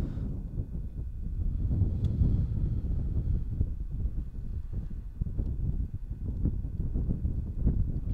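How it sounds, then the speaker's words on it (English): Strong headwind of about 10 to 15 mph buffeting the microphone over a rowing course at a Harvard versus Brown heavyweight crew race, a steady low rumble of wind noise with gusty swells throughout and no talk. "The wind is making it challenging for the crews to stay aligned. Got that strong headwind."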